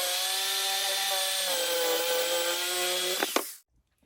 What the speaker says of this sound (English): So I got to get my jigsaw out.